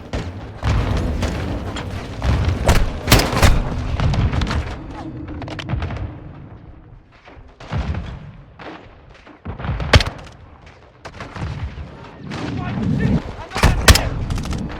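Gunfire in the Call of Duty Modern Warfare II campaign, bursts of shots and heavy booms cracking repeatedly at close range, with dense battle noise throughout and voices talking over it.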